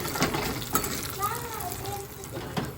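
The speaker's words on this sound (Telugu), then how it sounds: "తాలింపు అయితే నేను నెయ్యితో వేస్తున్నానండి" Cumin and dried red chillies crackle and sizzle in hot ghee for a tomato rasam tempering, a steady frying hiss with a few sharp pops, a voice briefly heard over it.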